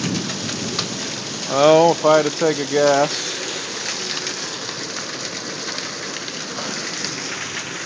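A thunderstorm pours steady rain, with marble-size hail clattering on surfaces as a constant dense patter, while someone speaks briefly over it near the start.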